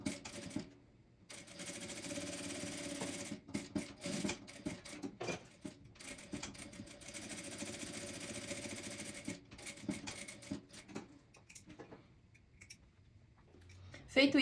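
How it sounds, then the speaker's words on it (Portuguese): Sewing machine with a presser foot stitching both long sides of a fabric handle strip, a steady mechanical whir running in bursts with brief pauses and clicks between runs, fairly quiet and close. "vou passar uma costura com um pé de calcador dos 2 lados"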